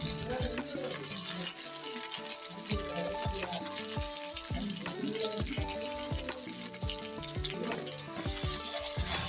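Green chillies, onion and curry leaves fry in coconut oil, sizzling steadily and crackling close by, with scattered sharp pops and occasional stirring clatter throughout.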